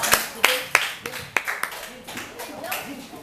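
At a class debate, a small audience gives a handful of sharp, separate claps at the start, and then speech takes over.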